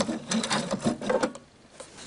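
A sewing machine stitching a waistband along fabric out to a corner, a quick mechanical whirring chatter heard up close that slows and stops after about a second and a half.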